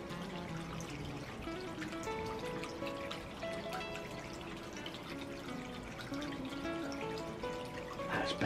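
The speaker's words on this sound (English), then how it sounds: "So there we have it, my wonderful little Japanese water feature." Water trickles steadily in a small Japanese-style water feature beside a newly built garden pond, a continuous close burble with light drips and no voices.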